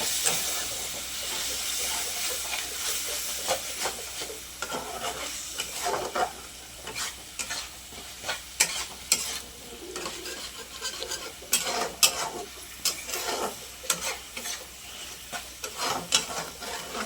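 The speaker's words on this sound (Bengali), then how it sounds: "মশলাটা কষে নিতে হবে।" Ginger and garlic spice paste stir-fried in oil in a pan for a meat dish, with a continuous hissing sizzle and frequent scraping, stirring strokes, close and busy throughout.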